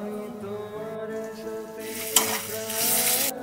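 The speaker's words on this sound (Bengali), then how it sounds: "সাদা জিরে আর শুকনো লঙ্কা দিয়ে ফোড়ন দেব আর তারপর পেঁয়াজ কুচিটা দিয়ে দেব।" Cumin seeds, dried chilies and chopped onion frying in hot oil in a pan, with a sizzle that swells sharply near the end after a stir knocks against the pan, close and continuous, no voices.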